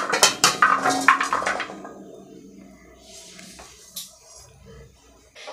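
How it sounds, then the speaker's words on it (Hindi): Chopped carrot, radish and bell pepper pieces for pickle tipped into a vessel: a quick run of clattering, clinking drops up front, then fainter scattered taps and a lone knock, close and without talk. "हम जितना भी कटे हुए सब्जियां हैं उसे मैं इसमें डाल देते हैं"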